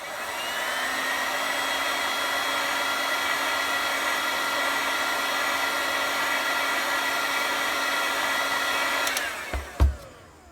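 A heat gun blows hot air onto a plastic armor piece, a loud steady whirring hiss that holds constant for about nine seconds before switching off with a couple of clunks.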